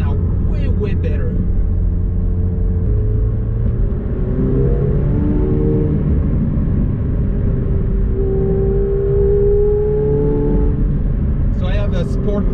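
A McLaren 720S with a stock McLaren sport exhaust option, in track mode, is driven over small bumpy roads, giving a steady, loud low engine and road rumble with shifting tones throughout, and brief higher noises at the start and end.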